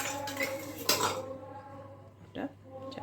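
Metal spoon on a biryani pot: a few sharp clinks and scrapes, one louder knock about a second in and another near the end, like a lid being set on, in a quiet kitchen.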